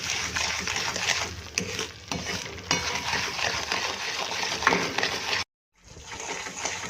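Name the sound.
stirring moraiya sheera in ghee on high flame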